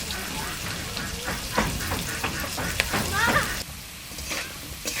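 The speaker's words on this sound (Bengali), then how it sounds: "আলুগুলো লাল লাল করে ভাজা হয়ে গেছে" Potatoes frying in hot oil for a rohu fish curry give a continuous crackling sizzle, broken by several sharp stirring clatters and a brief drop in intensity near the end.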